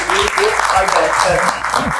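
Applause breaks out at a Pakistani film-star interview, a steady broadband patter of clapping lasting about two seconds while someone talks over it.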